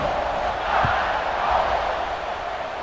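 A large football stadium crowd roars steadily at kickoff during a Penn State versus Alabama game, a broad, sustained wash of cheering that swells a little midway and is heard from within the stands.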